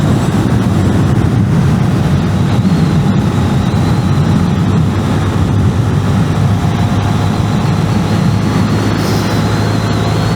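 A 125cc motorcycle with a big rear sprocket pushed hard through twisty roads, loud continuous engine drone and wind rush with no letup throughout.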